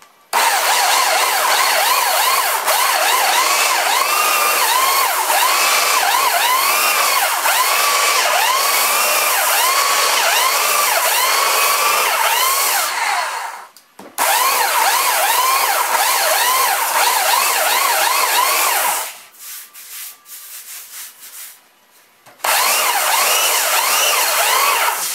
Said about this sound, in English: keep the sander moving. Don't stay in one spot.